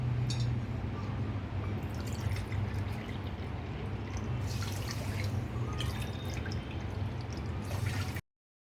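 Water pours steadily into a pot on the stove for sugar syrup for rasmalai, a continuous close splashing and filling sound lasting about eight seconds, with no talking.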